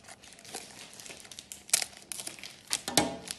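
The corner of a plastic container of colored craft sand is cut open, giving close, crinkly rustles and a few sharper crackling snips, fairly quiet, with no voices.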